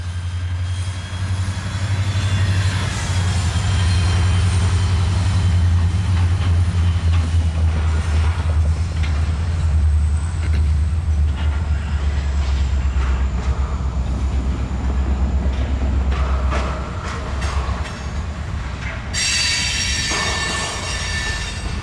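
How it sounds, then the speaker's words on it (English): Freight train locomotive switching cars in a rail yard on the old Texas & Pacific line, with a deep continuous diesel rumble, rolling wheel noise, clanks, and a high wheel squeal, loud and fairly close. "LRE-10R has just pulled out a new cut of freight cars and will begin classifying said cars."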